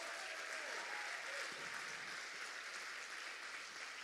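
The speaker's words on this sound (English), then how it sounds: "Give them all a round of applause," Audience applause for business challenge finalists at a chamber of commerce event, a steady broad wash of clapping that fills the whole stretch at a fairly even, moderate level.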